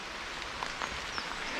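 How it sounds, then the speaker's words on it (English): Heavy rain falls in a steady outdoor hiss, with scattered louder drops pattering on nearby surfaces over the constant wash. "this rain is pretty epic now, so let's see if I can find a bit more cover"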